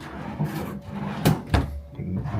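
A large hotel room drawer slides open or shut, giving two quick bumps over a soft rumbling background in a suite.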